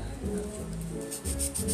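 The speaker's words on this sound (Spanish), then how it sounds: "vamos a lijar el otro." Sandpaper rubs over a doll's shoe in short, steady rasping strokes, fairly close and continuous, with faint tonal hum underneath.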